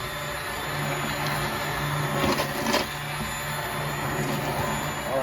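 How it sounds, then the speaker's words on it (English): An immersion blender whirs steadily in a pot of tomato Boursin pasta sauce, a loud, continuous motor drone with slight surges in the middle, close by and with no talk. "to get this immersion blender going and get this all combined nicely"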